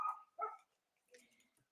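A dog barking at people walking in the street, two short close yips followed by a quieter whining bark, faint and brief against silence.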